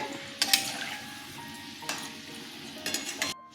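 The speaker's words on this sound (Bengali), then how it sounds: "আমি ল্যাংচাগুলো মিডিয়াম ফ্লেমে ভাজছি" Langcha sweets sizzle in oil over medium flame at a moderate, even hiss, broken by a few sharp clinks and scrapes of a utensil against the pan.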